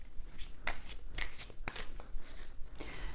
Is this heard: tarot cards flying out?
yes